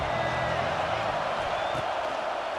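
Stadium crowd noise in the College Football 26 video game, with Ohio State playing: a steady, dense roar of many voices, unbroken and fairly loud throughout.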